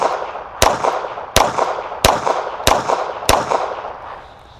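Five sharp shots from a Walther PPK SD pistol in .32 ACP firing full metal jacket rounds, evenly spaced about two-thirds of a second apart, each a loud close crack with a short ringing decay outdoors.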